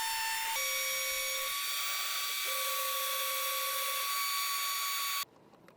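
A CNC router cutting the border of a multi-level resin lake map with a 1/8 inch end mill gives a steady high whine with sustained tones, close and loud, that holds for about five seconds and then drops away abruptly.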